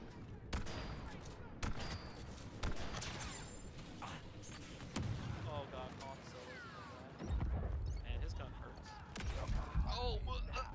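Rapid gunfire bursts and impacts hit a player in Star Wars Battlefront 2, with repeated shots and crashes under energetic talk between friends throughout.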